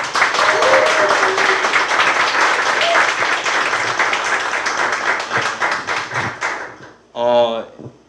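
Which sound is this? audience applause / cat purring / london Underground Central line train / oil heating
audience applause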